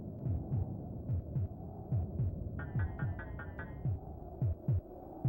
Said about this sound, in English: That snowman is kind of moving with the heartbeat.